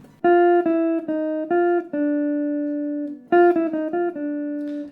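A clean electric jazz guitar plays a slow four-note bebop phrase of sustained single notes, then repeats the figure, close and clear with no talking.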